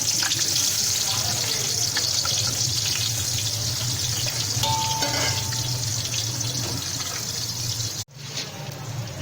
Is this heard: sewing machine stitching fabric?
no